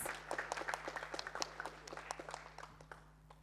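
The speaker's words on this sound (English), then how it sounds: "A big round of applause for him" A panel discussion audience gives a round of applause for the session moderator, scattered hand claps of moderate density over a low steady hum, thinning out toward the end.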